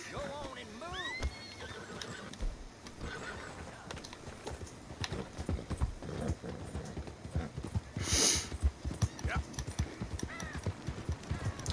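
Horse hooves clip-clop in the game Red Dead Redemption 2, with a horse neighing early on and faint crow calls. The rhythmic hoofbeats continue under talk.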